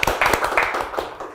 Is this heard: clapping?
yes